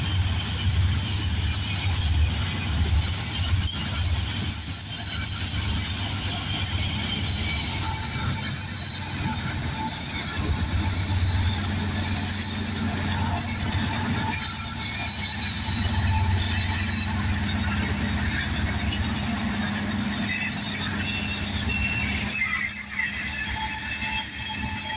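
A long freight train rumbles past nearby in El Paso, Texas, wheels clattering and squealing on the rails in a steady, loud roar that continues throughout.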